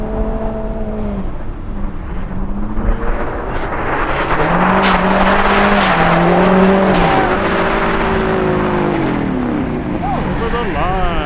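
A rally car driving on a slippery frozen lake, its engine note rising and falling steadily as the car slides through corners, loud and close throughout with voices talking over the engine.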